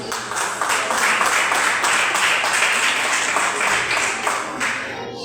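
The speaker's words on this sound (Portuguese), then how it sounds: "E as palmas para Jesus." Sustained applause from a sizable crowd filling a reverberant church hall, steady and enthusiastic throughout before tapering at the end.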